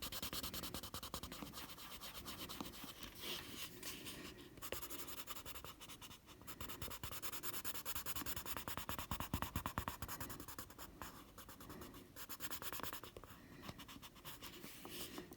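A pencil sketches on paper, making continuous soft scratching and rubbing strokes that come close and faint, with short pauses between bursts of shading.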